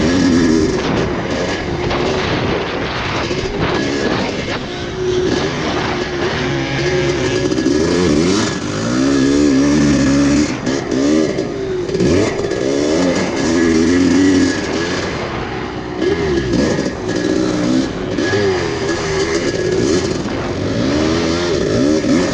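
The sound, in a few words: KX500 motorcycle racing on track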